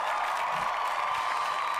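A crowd claps and cheers for a host, a steady wash of applause held at moderate level for a couple of seconds with no voices over it.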